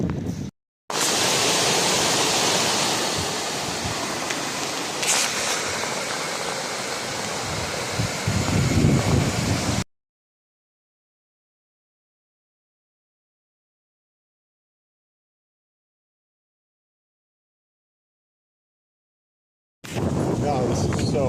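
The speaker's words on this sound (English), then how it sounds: "This kind of wind, it'd be so hard to come down this with thin ears." Strong wind noise roars across the microphone during a fast downhill bike ride near Mt St Helens, loud and continuous for about ten seconds, then a long silence before the rushing wind returns.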